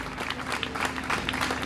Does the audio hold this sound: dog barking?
no